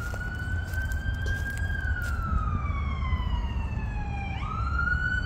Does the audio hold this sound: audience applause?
no